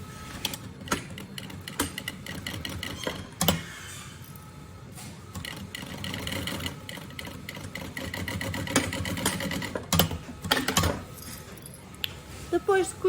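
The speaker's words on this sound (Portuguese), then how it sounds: "Vamos agora fazer uma costura a toda a volta." Sewing machine running a seam around a bunny backpack with a piping foot fitted over the piped edge, a steady mechanical whir broken by clicks, brief stops and restarts, with background noise throughout.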